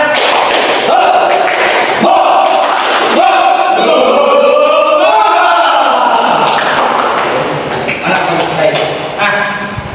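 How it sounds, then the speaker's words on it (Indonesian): A classroom of students performs a rhythmic spirit-clapping chant, sharp group claps in a patterned beat mixed with loud unison shouting voices, close and energetic throughout. "Tepuk semangat."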